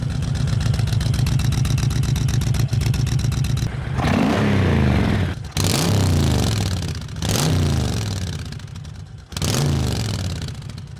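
A loud Honda Fury motorcycle with drilled-out stock exhaust baffles idles with a rough, rattly putter, then revs up sharply three times, each rev rising and dropping back, close by.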